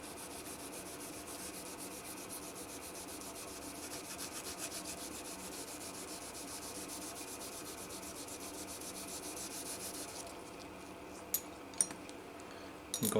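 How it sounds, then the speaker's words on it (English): Steady rubbing on the finish of a Gibson EB 1 bass guitar during cleaning, a soft continuous scrubbing that runs for about ten seconds and then gives way to a few light clicks and knocks. "I'm going to rub it to clean."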